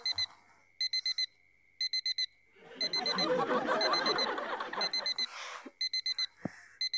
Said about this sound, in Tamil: அலாம் அடிக்குது பார்.